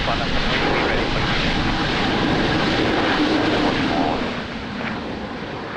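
An Embraer 195 jet airliner landing at Lisbon Airport in the rain, giving a loud, continuous engine roar that fades slightly near the end, with radio talk over it.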